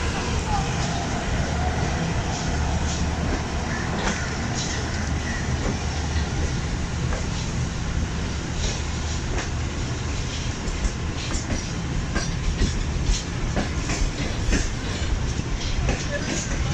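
The 6 Down Green Line Express to Lahore, a Pakistani business-class train, running at speed with a steady rolling rumble and repeated rhythmic wheel clicks, heard from on board with a voice talking over it.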